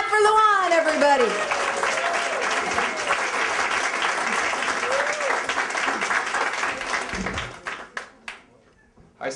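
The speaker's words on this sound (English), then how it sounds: "Clap for Luan, everybody" Audience applause for an American-Albanian comedian at a stand-up show, a dense roomful of clapping with a few cheers at the start that holds steady, then thins out into scattered last claps near the end.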